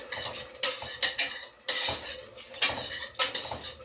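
Food mixed in a pot with a metal utensil, clanking and scraping against the sides in uneven bursts with short pauses between, close up, over a faint sizzle and with no speech.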